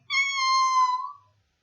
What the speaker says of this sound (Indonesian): Selanturnya nih kucing. Bahasa balene meong.